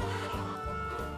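Chickens cluck steadily on a farm where some five thousand birds are raised, a soft continuous flock sound with no voices over it.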